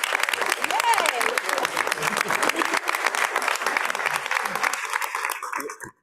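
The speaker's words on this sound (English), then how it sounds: "You deserve a round of applause." People at a county board of education meeting give a coach a steady round of applause, dense clapping with some voices underneath that continues strongly then cuts off abruptly at the end.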